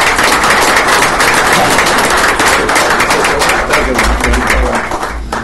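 Loud, sustained applause fills a board meeting room, dense clapping from many hands continuing steadily before easing off slightly at the end.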